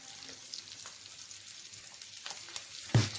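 Dried fish (vala karuvadu) frying in a pan gives a steady, soft sizzle with light crackle, close but fairly quiet, swelling briefly near the end as pieces are turned.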